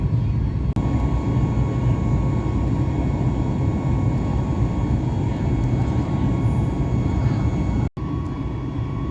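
Inside an airplane flying over Oahu, a constant loud low cabin drone of engine and air noise with a faint steady tone, broken by one brief dropout.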